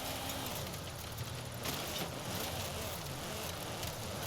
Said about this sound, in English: You can kind of hear when I give it gas, when I, lay off the throttle